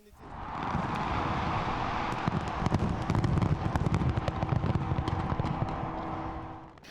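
New Year fireworks bursting over a city celebration: a continuous crackling and popping barrage over a low rumble, fairly distant and rising in intensity midway.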